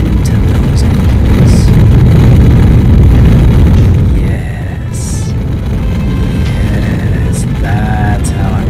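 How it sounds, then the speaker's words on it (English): Simulated rocket engines on a lower stage ignite and throttle up in Kerbal Space Program with the Real Solar System mod, a loud, dense roar that holds for about four seconds, then settles to a quieter steady rumble with faint electronic tones on top. "Ignite the engines, throttle up, decouple, and listen to those engines."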